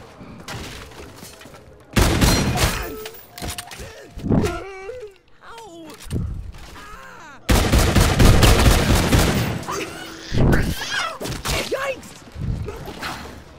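Call of Duty gunfire crackles in repeated loud bursts, some rapid and fusillade-like, with heavy thumps between them and groaning voices over the shooting.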